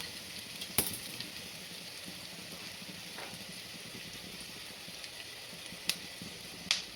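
Chopped onion sautés in a pan for veg hakka noodles, a quiet even sizzle with a few sharp clicks and taps of a spatula scattered through, no one speaking.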